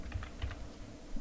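Fingers type a short command on a computer keyboard, a quick run of soft, close key clicks over a low background hum.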